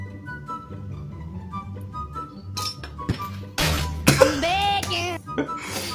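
Glass bottles clinking and rattling together with a sharp, shattering-like quality, several bright clinks bunched in the second half over music and background voices.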